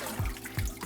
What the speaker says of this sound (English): You want to pick the greens out of the water